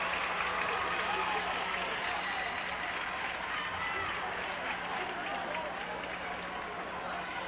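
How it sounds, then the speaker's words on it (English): Hockey crowd at a 1992 state championship game between St Edward and Bowling Green, a steady broad roar of spectators reacting to a possible penalty call, continuous and fairly loud throughout with no distinct voices. "certainly there was a crowd reaction to it"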